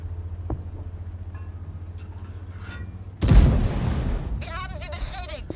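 A World of Tanks tank cannon fires a single loud, close blast after a quiet engine hum, then a long rumbling decay with game tones trailing off.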